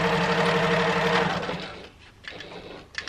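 A Janome HD9 sewing machine stitches in a close, steady mechanical whir for about two seconds, then stops, followed by a few faint handling clicks and rustles.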